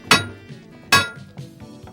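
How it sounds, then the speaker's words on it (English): Two sharp metallic hammer strikes on a steel frame, about a second apart, each ringing briefly, followed by faint clinks and rattles. "we're going to bang the other side with a hammer to see if we can get it to line up"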